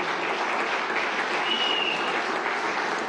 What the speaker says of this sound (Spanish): vamos a darle un aplauso pues a estos muchachos y muchachas.